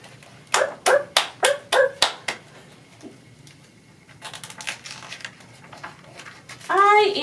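Hands clap like a seal in a children's movement game: seven sharp, evenly spaced claps in a quick burst, then quieter rustling and a few softer claps before a voice speaks.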